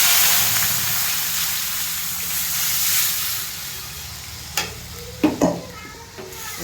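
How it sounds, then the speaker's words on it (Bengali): Lentils (dal) are poured into a pan of fried onions, setting off a steady, close hiss of frying that later gives way to a few clinks and stirring knocks. "এবার এর মধ্যে আমি ডালটা ঢেলে দেবো"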